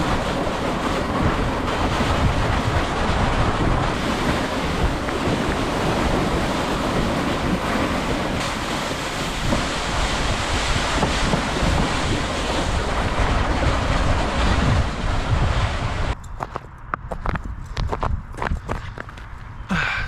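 Water flows through a partly frozen river at night beside a winter campsite, a loud, continuous rush heavily mixed with wind buffeting the microphone, breaking near the end into choppy, uneven bursts with possible crunching steps.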